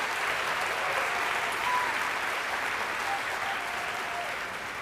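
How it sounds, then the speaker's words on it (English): Audience applause in the stands at a Teacher of the Year ceremony, honoring the Killian High JROTC: steady, dense clapping from a large crowd, held at an even level throughout with no voices on top. "let's give another round of applause to Killian High JROTC"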